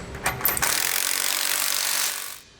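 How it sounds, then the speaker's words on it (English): Ratchet wrench with a 15mm socket tightening shackle bolts while installing a rear anti-sway bar and end links on a 2015 Ford: a rapid, close, steady clicking run of about two seconds after a few initial clicks. "We're going to use a 15mm socket for our shackle bolts here."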